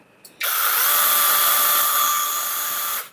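An Osuka 6-inch cordless battery chainsaw whirs up sharply to a high, steady whine, holds for a few seconds, then cuts off abruptly when released.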